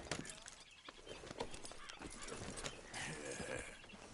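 Horse in the Red Dead Redemption 2 video game, with clip-clop hoofbeats and a brief whinny mixed among busy game sounds, near and moderately loud.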